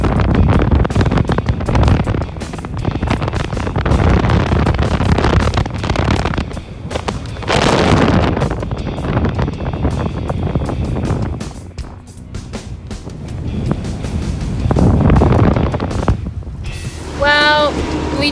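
Force 6 wind at sea off the Cyclades, Greece, roars steadily across the microphone aboard a sailing boat, buffeting in gusts throughout, with a rumbling engine beneath; a brief tonal whine appears near the end.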